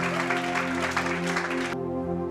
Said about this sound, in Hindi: तालियों के साथ हम स्वागत करेंगे